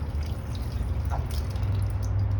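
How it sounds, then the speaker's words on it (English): Water pours from a watering can into a potted pink polka dot plant that has just been transplanted. It makes a steady, close trickle with a few light drips. "And then you take your watering can and you water"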